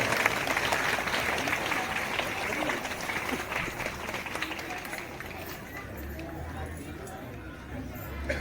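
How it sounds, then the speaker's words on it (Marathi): Crowd applause at a school Republic Day flag ceremony, a steady dense clatter of clapping throughout that thins slightly toward the end, with voices mixed in. "जोरदार टाळ्या वाजवायच्या सर्वांनी"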